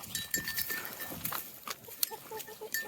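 Goats bleat in short, scattered calls nearby, mixed with faint clanking like a bell and rustling movement.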